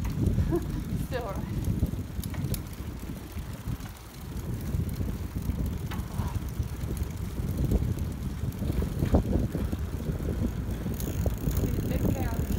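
Continuous rolling bicycle ride in Holland with steady wind buffeting and road rumble, a few faint clicks and rattles, and voices talking at times over the noise.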